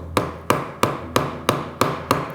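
Seven sharp, evenly spaced hammer taps on a knife sheath whose two sides are glued with contact cement, each a close, crisp knock about a third of a second apart with no talk.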